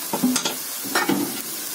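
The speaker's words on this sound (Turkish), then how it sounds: "Şimdi karıştırıp tenceremin kapağını kapatacağım." Mushroom lamb kavurma being stirred in a pot, with a close, gentle scrape of the spoon and a soft sizzle of the meat cooking throughout, and no one talking.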